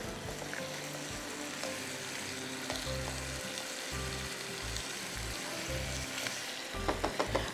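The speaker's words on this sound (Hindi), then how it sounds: "अच्छी तरह अपने मसालों में गोश्त को भूनना है।" Meat browning in a pan with spices sizzles steadily and loudly, with a low rhythmic thumping underneath and a few sharper spattering pops toward the end.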